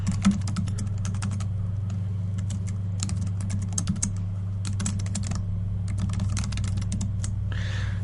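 Someone types on a computer keyboard into an HTML editor: quick irregular runs of close, crisp key clicks with short pauses, over a steady low hum, with no talking.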